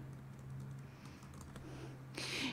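Keys tapped on a computer keyboard while entering an email address, a quiet, steady run of soft clicks over a low hum, ending in a slightly louder burst of taps.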